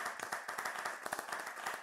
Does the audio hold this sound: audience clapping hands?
yes